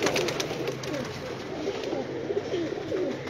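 Rooftop loft pigeons cooing together, a steady mass of low throaty coos layered close by, continuous throughout.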